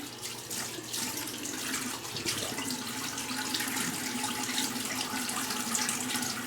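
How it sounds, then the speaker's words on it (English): Hot tap water running steadily into a sink for rinsing after a shave with a Schick Krona black-handled razor, a continuous close hiss and splash with no break and no talking. "Now, I like to rinse with hot water."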